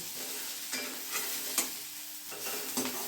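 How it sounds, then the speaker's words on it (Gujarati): Fenugreek leaves saute over high heat in a pan, a continuous close sizzle with several soft stirring scrapes spaced through it. "હવે આપણી મેથી સતળાવા આવી છે।"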